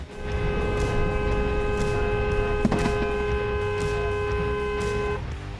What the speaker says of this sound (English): Our submitter honked in an attempt to warn the other drivers